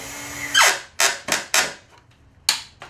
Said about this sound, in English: I'm just putting the screws in here on the last couple of shelves